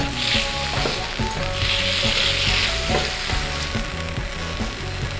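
Sesame seeds stirred in a hot frying pan as a base for tandoori chicken produce a loud, dense sizzle up close, with a brief spattering surge and light rhythmic stirring taps underneath, no speech.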